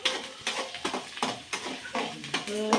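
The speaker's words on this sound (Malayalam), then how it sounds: "ഇനി ഇത് നല്ലപോലെ ഫ്രൈ ആക്കി വെക്കണം ഗൈസ്" Ingredients sizzling in a pan as a spoon stirs them, with rapid, rhythmic scraping strokes over the frying and a faint voice in the background near the end.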